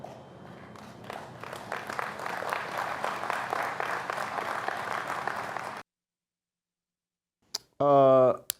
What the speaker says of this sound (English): That was a very muted applause.